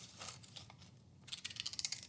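Scissors snipping through paper at home while making a paper towel roll craft, quiet crinkly rustling followed by a quick run of sharp, close cuts near the end.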